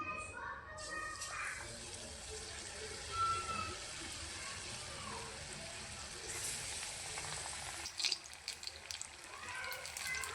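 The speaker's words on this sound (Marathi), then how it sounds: "तेल पण बघा गरम झालेलं आहे. तर आपण याच्यामध्ये एक एक भजी टाकून घेऊया." Ridge gourd bhaji fritters drop one by one into hot oil and fry with a soft, steady sizzle, fairly quiet and a little distant, broken by a short clatter of handling near the end.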